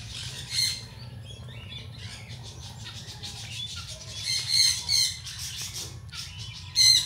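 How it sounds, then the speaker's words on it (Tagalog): Birds squawk, chirp and tweet outdoors in short bursts over a low steady background hum, with some louder calls standing out near the end. "Yung maririnig mo lang talaga dito is mga huni ng ibon ng mga hayop."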